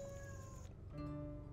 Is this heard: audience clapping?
no